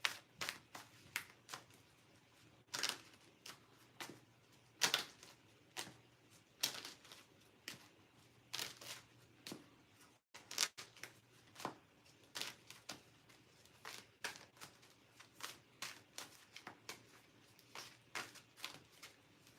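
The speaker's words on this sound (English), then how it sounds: "So a little bit of card shuffling here." Tarot cards are shuffled in steady bursts of crisp riffling and soft slaps, repeating close and fairly quiet for the whole stretch with no talking.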